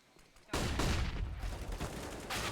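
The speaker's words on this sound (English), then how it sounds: "somebody starts shooting on B" Dense bursts of rapid gunfire erupt suddenly in a Counter-Strike match on the Inferno map, loud and continuous after a quiet start, with overlapping shots.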